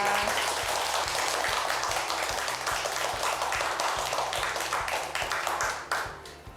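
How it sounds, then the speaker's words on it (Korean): Steady applause from an audience after a university lecture, dense clapping at even loudness throughout, then tapering off abruptly near the end. "오늘 좋은 강의해 주신 이중수 교수님께 다시 한번 큰 박수 부탁드립니다"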